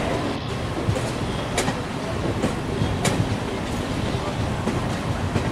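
A WAP7 locomotive hauling the Paschim Express on the Himachal route in the Trainz Simulator mobile game rolls along the rails with a steady low rumble and occasional sharp clicks from the track.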